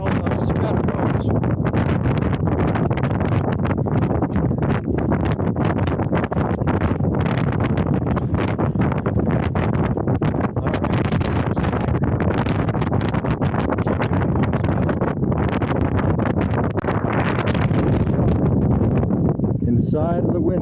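Steady, loud wind buffets the microphone at the lava spatter cones of Craters of the Moon, a continuous rushing roar with gusty surges throughout, and a person speaks briefly over it.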